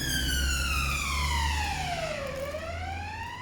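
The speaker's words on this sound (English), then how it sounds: "Right, now we've got ambulances here." An ambulance siren passes on a city street, its wail sweeping steadily down and then climbing again, loud and close over a low traffic rumble.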